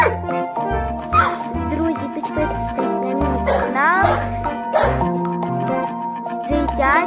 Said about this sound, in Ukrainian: Ото, друзі, песик Тайсон